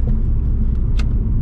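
Steady low engine rumble from a Subaru WRX V Limited being driven, heard from inside the car, with a brief sharper burst about two-thirds of the way through.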